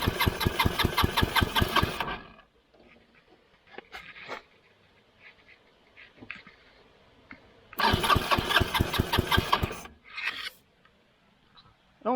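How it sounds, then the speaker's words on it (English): Starter cranking an old project engine, energized by crossing the starter solenoid: two bursts of rapid rhythmic cranking, each about two seconds, separated by a quiet stretch of faint handling noises, fairly close and loud. "Y'all watch the spark and I'll crank the engine."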